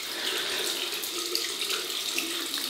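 Tap water runs steadily into a sink to warm a full stainless steel West Coast Shaving Hyperion double-edge safety razor, a continuous close splashing rush with no talk.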